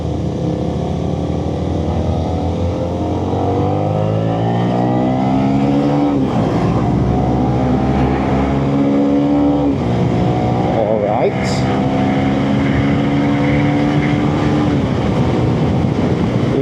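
A Honda Winner X 150cc motorcycle engine drones steadily throughout a ride, rising and falling in pitch as it accelerates and shifts, loud and close with constant wind noise.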